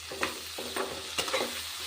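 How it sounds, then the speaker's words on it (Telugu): Cauliflower florets fry in a pan with turmeric and salt, a steady sizzle broken by several scraping strokes of a spoon stirring them, close up and with no talking. "గోబీ ఫ్రై చేసుకునేటప్పుడు కొంచెం పసుపు ఉప్పు అయితే వేసుకొని బాగా ఫ్రై చేసుకోవాలి"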